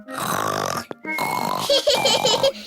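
A cartoon pig character's voice mimics snoring with snorty, grunting sounds that turn into laughter, close and loud.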